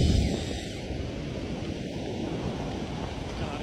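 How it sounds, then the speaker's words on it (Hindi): Sea water washes up the shore at a beach where kites are being flown. A steady, loud surge and hiss continues throughout, mixed with wind buffeting the microphone. "अरे हमारे पे पानी आ गया समंदर का"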